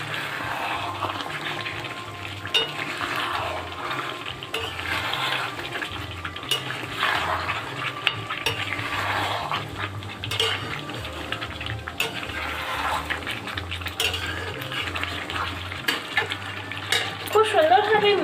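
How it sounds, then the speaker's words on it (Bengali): A pot of chicken dum biryani with fried potatoes stirred gently, giving a steady close wet scraping and churning with a low continuous background hum under it, no voices. "আবারও হালকা হাতে খুব সুন্দরভাবে মিশিয়ে নেব।"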